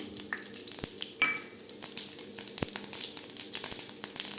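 Mustard seeds, urad dal and cumin temper in hot oil in a pan, a soft steady sizzle broken by sharp clicks and clinks of a spoon against the metal.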